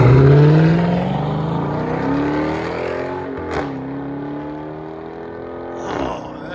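A 2021 Chrysler 300 S with the 5.7L HEMI V8 and a Carven R-Series exhaust revs loudly up through the gears, its deep exhaust note rising and dropping at each shift, heard close with no talk.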